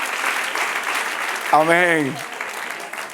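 Church congregation applauding during a pastor's sermon, a steady wash of clapping from the crowd that runs throughout, with a voice briefly speaking over it partway through.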